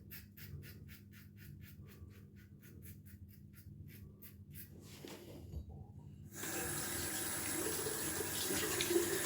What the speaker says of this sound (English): Lather rinses off the razor with ease.